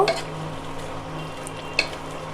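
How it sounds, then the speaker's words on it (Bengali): Banana flower curry stirred in a pan after sugar goes in, a low steady sizzle with soft scraping, a brief clatter near the start and a sharper clink of the spoon against the pan toward the end. "চিনি দেওয়ার পর আবার একটু নাড়িয়ে নিব।"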